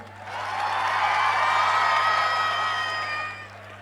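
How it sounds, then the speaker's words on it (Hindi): Large outdoor concert crowd at a live show in Srinagar Garhwal cheering and clapping, a broad sustained roar rising and holding before fading, with no speech over it. "तो जो युवा शक्ति है उसके लिए जरा एक जोरदार तालियां बजाई जाए।"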